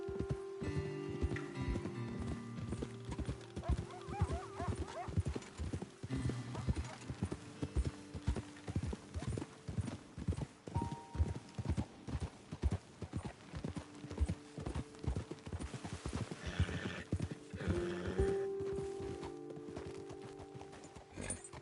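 Horses in Red Dead Redemption 2 clip-clop steadily along a trail, a continuous rhythmic patter of hooves with a brief neigh, fairly close and not loud, with a voice speaking now and then.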